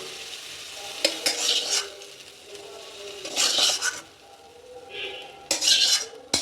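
Roasted pointed gourd is stirred into a spice mix in a pan with the gas switched off. A spoon scrapes the pan in three distinct bursts, separated by quieter gaps with only a soft background hiss.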